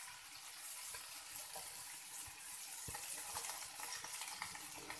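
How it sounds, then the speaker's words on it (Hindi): Cumin seeds and onion frying in hot oil while a Gobi Matar sabzi is being made, giving a steady soft sizzle with light stirring scrapes throughout, close and even, with no talk. "ज़ीरे का जब थोड़ा कलर आ जाएगा तो हमने डाल देनी है एक प्याज"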